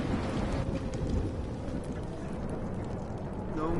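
Heavy rain pours steadily in a thunderstorm within the video game Life is Strange, a dense, loud wash with a low rumble beneath, continuous throughout with no clear talk.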